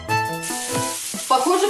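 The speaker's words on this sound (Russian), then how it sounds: "Я жарю с оливковым маслом." Cheese sizzling as it fries in olive oil in a hot pan, a steady close crackle with clattering and a brief voice-like tone over it.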